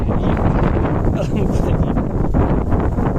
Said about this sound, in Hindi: बहुत ही ठंडी और मजे की हवा चल रही है